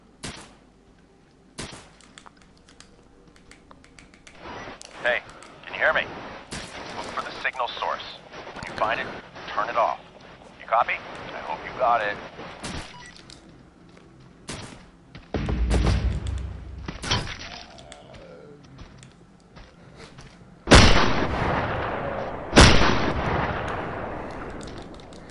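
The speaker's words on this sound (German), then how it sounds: "Sobald die sprinten, schieße ich mit der Shotgun auf jeden Fall." Shotgun blasts fired at zombies in the survival game SURV1V3 at a train station, several loud booming shots spaced apart, louder near the end, among other thuds while someone talks in between.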